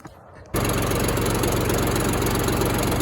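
A backhoe fitted with pallet forks roars to life after a brief quiet moment, its diesel engine then running loud and steady with a chugging, knocking rumble.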